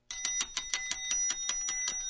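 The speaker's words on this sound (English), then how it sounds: "It's one of those bells that sits on the countertop when you go up to a place where there's nobody at the counter and you click on the bell" A countertop service bell is struck in quick succession, roughly nine sharp metallic dings in a steady rhythm, close and loud in a quiet studio.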